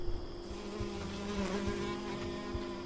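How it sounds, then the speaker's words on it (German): Close mosquito whine in the horror game Sign of Silence, a continuous buzzing drone that wavers slightly in pitch over faint low thuds, with no one speaking. "Aber gute Mückengeräusche"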